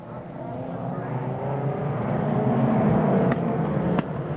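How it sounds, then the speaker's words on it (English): F2 stock car engines roar continuously in a 1992 Buxton oval-track final, one car badly misfiring, the loud uneven racing drone building steadily with a few sharp clicks near the end. "Slowly but surely, and badly misfiring, 187 Andy Rawlinson is reeling in 622 Darren Bingley"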